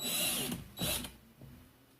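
A power drill bores into a metal top nut for a lathe quick-change tool post, whining in two short bursts and then easing off, close and fairly quiet, with no talking.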